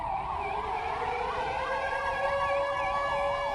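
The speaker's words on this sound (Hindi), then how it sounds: "सायरन का आवाज सुनिए पहले आप" An air-raid siren during a city blackout drill in Bhilai, India, wails continuously with a rising and falling pitch, moderately distant and steady, with no voices.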